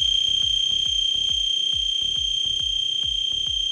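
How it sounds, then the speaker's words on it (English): The alarm of an Arduino-based laser security system sounds as a continuous high electronic tone over rapid, evenly spaced low clicking pulses, close and steady, with no talking. "This is a simple laser security system, which is built to trigger an alarm once an intruder comes across the laser beam cast on the sensor."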